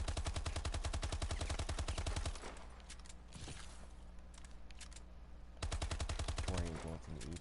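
Sustained AMR9 fire in Call of Duty: Advanced Warfare, loud rapid automatic bursts at the start, a quieter gap with mechanical handling, then another long burst near the end.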